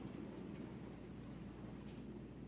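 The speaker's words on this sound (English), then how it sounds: "That is the sound of an awful lot of rain." Heavy rain pours steadily as a dense, continuous wash at fairly constant loudness, with no talk over it and no distinct thunder crack.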